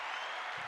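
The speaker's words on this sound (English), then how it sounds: "please give a big round of applause to Gabriel Quijano" Brief burst of audience applause for a guest named Gabriel Quijano at a team-building event in Mexico, a steady broadband wash of many hands clapping, moderately loud and without talk.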